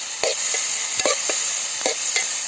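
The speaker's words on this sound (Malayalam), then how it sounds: "അങ്ങനെ ഇളക്കി കൊടുക്കാം." A spoon stirs egg gravy in a sizzling pan, scraping several times in irregular strokes over a constant frying hiss close by.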